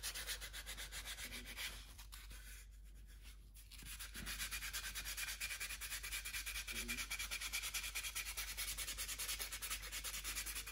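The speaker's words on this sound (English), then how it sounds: "I'll spend a little bit of time doing some finish sanding" Steady, continuous rubbing of fine 320-grit sandpaper over a carved wooden goldeneye drake, close and even for the whole stretch with a brief lighter dip midway.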